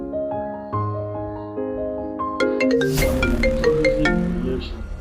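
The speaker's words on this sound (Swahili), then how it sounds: "Mr. Noma, usijaribu kuchukua hiyo simu." A mobile phone ringtone plays a bright, stepping electronic melody, close and fairly loud; partway through, a noisy burst of other sound joins over the ringing.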